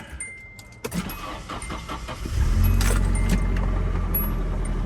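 A Nissan 240SX that sat overnight cranks briefly, then catches and settles into a loud, steady idle close by; a few clicks and a jingle of keys come first.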